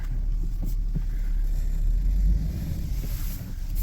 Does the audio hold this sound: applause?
no